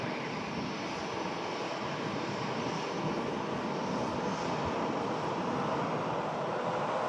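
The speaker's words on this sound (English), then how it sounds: "Gulf Air Dreamliner heading out to Bahrain" A Gulf Air Boeing Dreamliner departing Manchester Airport for Bahrain: a broad, steady jet engine roar heard from a distance, continuous and fairly loud throughout, with some wind noise and no speech.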